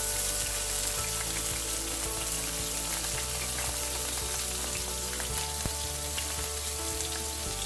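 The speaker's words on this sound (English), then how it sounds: "we will start sauteing our onions here" Onions sautéing in a heated pan for shrimp dry red chilli masala, a dense, steady crackling sizzle close by that holds evenly throughout, with a faint background hum and no voices.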